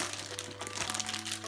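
Crinkly plastic packaging is pulled and crumpled off a poster, a short burst of dense rustling and crackling close up.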